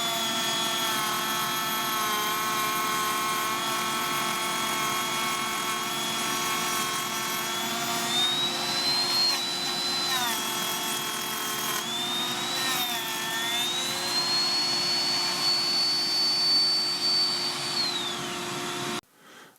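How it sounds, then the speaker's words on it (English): A Ryobi ONE+ compact fixed-base router cuts an ogee profile in framing lumber while a shop vac draws dust from the port, a loud, steady whine with pitch shifts as it bites, stopping abruptly at the end. "The shop vac is connected to the dust port and greatly reduces the mess"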